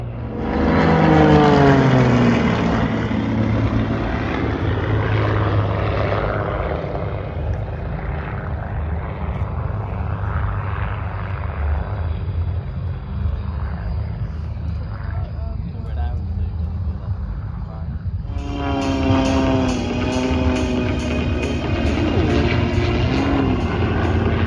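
A propeller aeroplane flies past at an airshow at Old Buckenham, its engine drone swelling loud and then fading into a steady distant hum before rising again, under a public-address commentator's voice.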